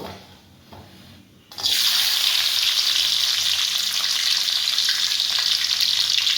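Raisins and cashews frying in a pan, a loud, steady hiss and sizzle that starts abruptly after a quiet moment and holds evenly to the end.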